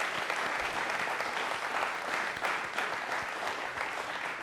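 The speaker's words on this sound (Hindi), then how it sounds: "तालियां एक बार जोरदार" Audience applause at a Republic Day quiz show, steady and dense clapping throughout at moderate level, with no voices on top.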